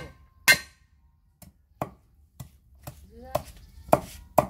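A knife chops galangal on a cutting board, seven or eight sharp, separate thwacks at uneven intervals, close and clear over a quiet background, with faint voices murmuring between strikes.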